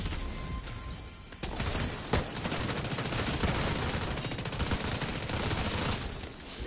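Sustained automatic gunfire in The Division 2 during a Dark Zone PvP fight, loud rapid shots with a sharp louder burst near the start.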